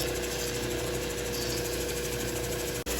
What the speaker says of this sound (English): a little thunder egg on this saw, just to show you some tough stuff